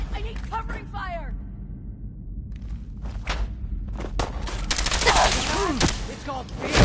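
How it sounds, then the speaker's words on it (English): Rapid bursts of gunfire from a Fallout 4 firefight crackle in close, broadband volleys, starting sparse and building into dense, continuous shooting over a low ambient rumble, with voices talking amid the shots. "I need covering fire!"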